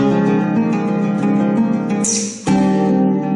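A sustained major seventh chord on guitar rings out with rich harmonics, then a brief scrape and a fresh strum keep it sounding clearly and close.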